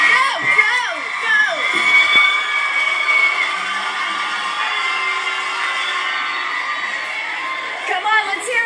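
A school pep rally crowd cheers and shouts for eating contest contestants, a loud, sustained wall of whoops and children's voices with an announcer talking over it early on.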